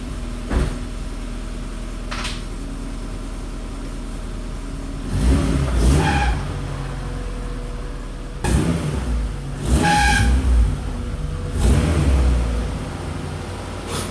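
A Honda Civic EF engine turns over and revs in short bursts as the car is shifted during undercoating work, three rising surges over a steady low hum, close by with no talking.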